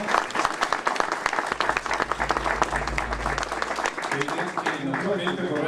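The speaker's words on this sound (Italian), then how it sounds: "Grazie, quindi, allora un applauso." A crowd claps at an outdoor monument dedication for pilgrims at Castelmonte, a lively, uneven burst of many hands rising quickly and holding, with a low rumble beneath and the clapping thinning slightly near the end.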